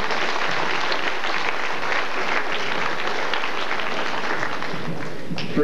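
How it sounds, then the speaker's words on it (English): Crowd at a stage hypnosis show breaks into steady, dense applause that carries loudly and evenly throughout. "Give them a round of applause."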